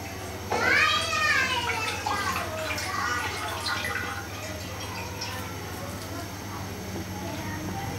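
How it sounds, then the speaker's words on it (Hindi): Milk poured into a pan while making shahi tukray, a close liquid splash and gurgle that starts suddenly, then settles into a softer trickle over a steady background hum. "इसमें ऐड करेंगे दूध।"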